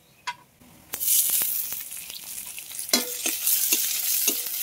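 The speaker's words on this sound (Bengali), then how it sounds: "এখন পেঁয়াজ কুচি দিয়ে দেব," Chopped onion added to hot oil with fried garlic in a kadai sets off a sudden loud sizzle after a quiet start, then keeps hissing under repeated close clinks and scrapes of a stirring spatula.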